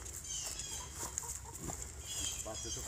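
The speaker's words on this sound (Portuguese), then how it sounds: "Aquelas galinhas." Chickens clucking on a small farm in Florida, with several short, scattered clucks and calls over a quiet outdoor background and a few brief rustles, some of it under soft voices.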